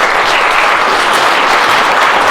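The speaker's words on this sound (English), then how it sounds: "give our fantastic panel a round of applause" A crowd applauds loudly and continuously for a panel at a horror film festival Q&A, dense clapping filling the whole moment without pause.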